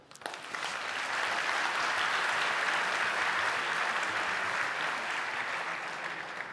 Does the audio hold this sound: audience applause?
yes